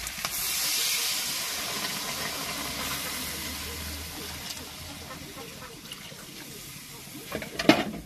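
Water poured into a hot pan of mutton curry, a loud sizzling hiss that surges at first and slowly fades, with a few clattering knocks near the end.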